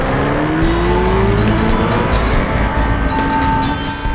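A Kawasaki Ninja ZX-14R motorcycle riding on a highway at triple-digit speed, a loud continuous engine drone with rising pitch as it accelerates, mixed with heavy wind rush, sustained and close throughout.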